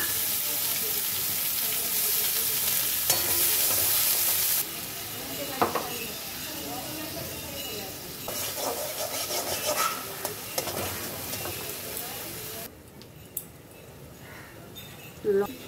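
Onion paste dropped into oil left from frying pomfret, sizzling and hissing loudly while a spatula scrapes and stirs. The frying intensity shifts abruptly several times as the paste spreads and is worked around the pan.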